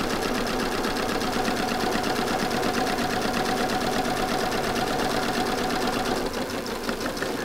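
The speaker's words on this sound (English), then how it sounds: "I'm just going to go along and sew nice and straight" Sewing machine with a zigzag foot stitching along fabric-covered rope: a steady, fast mechanical whirr and needle clatter running throughout, close and loud, easing slightly near the end.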